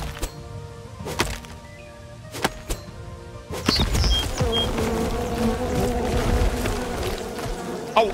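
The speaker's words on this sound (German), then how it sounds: "Geh weg, ihr scheiß Bienen." Bees in the video game Len's Island hum at first under sharp, spaced knocks, then their buzzing swells loud and dense around the listener and stays close to the end.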